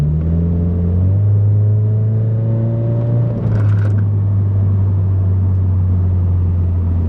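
A Toyota 86 with an Mxp Comp RS exhaust drones steadily, rising in pitch as light throttle is applied, then settling into a loud, constant low hum, heard from close by.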